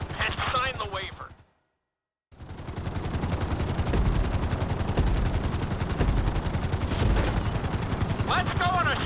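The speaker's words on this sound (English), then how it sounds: "we're gonna put you in a helicopter for this lesson" A helicopter in GTA 5 with its rotor beating in a dense, rapid chop, close and loud, broken by a brief silence before it returns steadily. Faint voice-like sounds come in at the start and the end.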